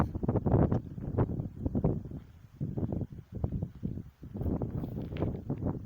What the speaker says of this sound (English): You can see how windy it is, the way the sign is blowing around.